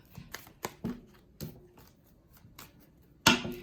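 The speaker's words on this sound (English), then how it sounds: "They say shuffle it one more time because they acting weird." A deck of tarot-style cards is handled and shuffled, sharp irregular clacks and riffles spaced apart, ending with a louder snap of cards near the end.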